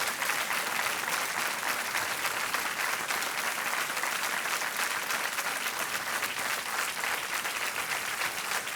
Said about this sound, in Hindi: तालियां बजती रहनी चाहिए देवियों सज्जनों।